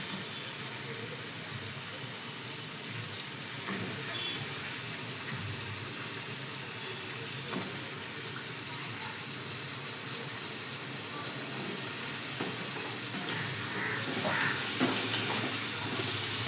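Eggplant fries in an oil-released masala for a spicy curry, a constant hissing sizzle like light rain with occasional soft stirring scrapes, close and steady throughout.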